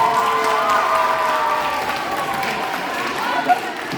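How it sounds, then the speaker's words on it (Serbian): Applause at a school knowledge quiz, a continuous wash of clapping from the audience greeting the quiz helpers, steady and fairly loud throughout with crowd murmur underneath. "Jedan aplauz za njih."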